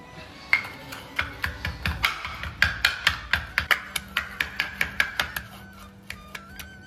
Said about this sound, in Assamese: এয়া আদা নহৰু খুন্দি লওঁ